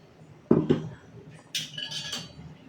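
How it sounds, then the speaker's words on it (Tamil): Chickpea kurma with coconut being stirred in a pan, a couple of close metallic scrapes and clinks, then a brighter, hissing scrape. "இதை நல்லா கிளறி விட்டுடலாங்க."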